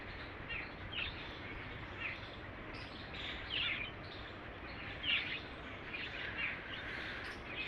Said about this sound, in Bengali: তার মধ্যে চারটি পাখির আওয়াজ, কি যে ভালো লাগছে